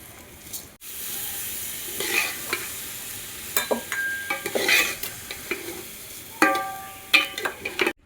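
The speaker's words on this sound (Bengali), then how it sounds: "চালটা এরকম কষা হচ্ছে" Rice is fried with turmeric, ginger, garlic and chili powder in a pan, and a spatula stirs and scrapes it in uneven bursts over a soft, continuous sizzle close by.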